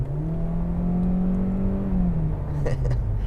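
A 2021 Hyundai Elantra with a four-cylinder engine and CVT pulls away, its engine drone rising smoothly and steadily from inside the cabin without gear shifts, with faint clicks near the end.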